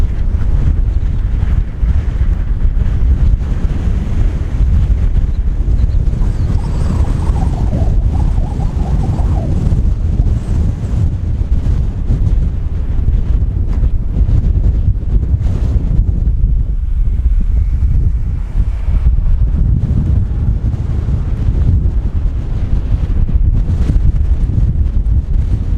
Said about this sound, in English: there's a hell of a windstorm going on